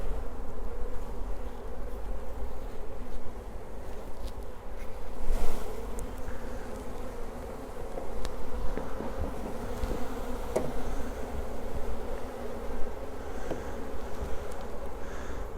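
Honey bees buzz continuously around an open beehive during requeening, a dense, close, droning hum with occasional louder passes of individual bees and a few soft knocks from handling the frames.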